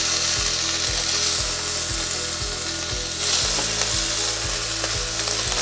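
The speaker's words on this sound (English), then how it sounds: "Now let's add minced garlic into the pan and green onions" Minced garlic and green onions fry in a pan with a loud, steady sizzle that swells slightly partway through. A regular low ticking runs underneath, and no one speaks.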